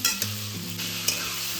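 Sliced onion sizzling steadily in hot oil in a pan, frying until reddish-brown for chicken biryani, with close stirring scrapes over a continuous crackle.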